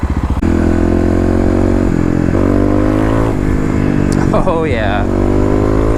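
A fuel-injected Kawasaki KLX351 motorcycle is ridden through city streets, its engine loud and close throughout, with rising and falling revs and a sharp rev-up near the end, while the rider speaks briefly.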